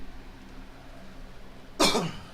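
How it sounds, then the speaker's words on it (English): A single sharp cough bursts out near the end after a stretch of quiet room noise, close and fairly loud. "I cannot stop coughing."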